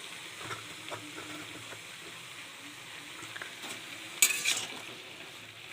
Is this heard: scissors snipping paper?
no